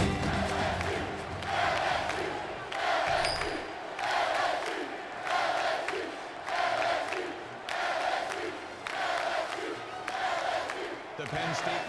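A stadium crowd in an NCAA Football video game roars in repeated swelling waves of cheering, a rhythmic rise and fall of massed voices heard before a Penn State versus LSU kickoff.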